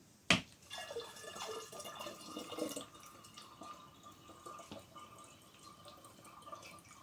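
Water trickles and splashes softly as it is poured into a glass demijohn of homemade beetroot wine, a brief faint pour after a sharp knock, then quiet drips.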